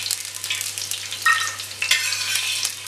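Cashews and raisins frying in hot ghee for Onam ada pradhaman sizzle continuously up close, with small pops and the scrape of stirring breaking through now and then.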